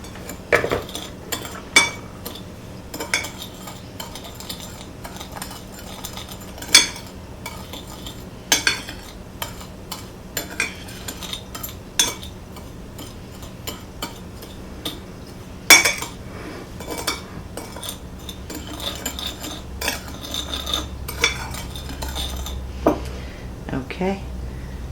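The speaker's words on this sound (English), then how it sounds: "and give it a stir." A spoon stirs a cinnamon mixture in a bowl, giving repeated sharp metallic clinks and scrapes against the dish at an irregular rhythm, close and fairly loud, with a faint low hum underneath.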